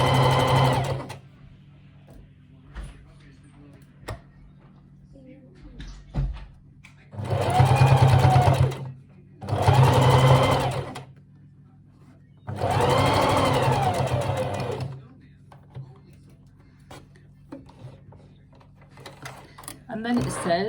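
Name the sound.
sewing machine sewing a wool coat seam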